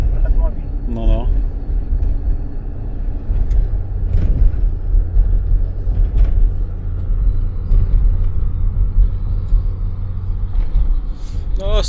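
An old car with soft suspension rolling along, a continuous low engine and road rumble with occasional knocks and bumps, while people talk inside the cabin.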